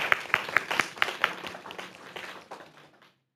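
At a school board meeting, a small group gives a round of applause: sharp, distinct claps that start strong, soften and thin out over three seconds, then stop.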